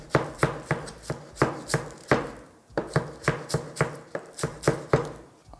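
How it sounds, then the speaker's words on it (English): Trinbagonian chive chopped finely with a knife on a cutting board, a quick even run of crisp thuds with a short pause partway through, close and clear with no talking. "Just gonna chop that fine."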